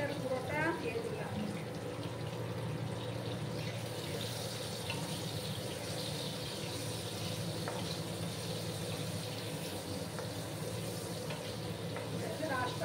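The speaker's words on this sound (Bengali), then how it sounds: "একটু লাল করে আমি আলুগুলোকে ভেজে নেব।" Potatoes frying with turmeric in a pan for a Bengali green banana and rohu fish curry, a steady soft sizzle running throughout, with running water and a voice faintly in the background.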